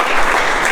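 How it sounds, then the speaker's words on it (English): A club audience of a Toastmasters public-speaking meeting claps together in dense, continuous applause, a short loud burst heard up close with no voices over it. "So give us a round of applause."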